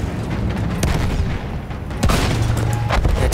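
Gunfire and booms ring out in the World War I shooter Battlefield 1, with scattered sharp shots and heavier thuds over a rumbling battlefield backdrop, getting louder partway through.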